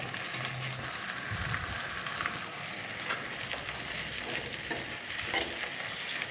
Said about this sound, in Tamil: பின்னர் தக்காளி சேர்த்து நன்கு வதக்கவும்.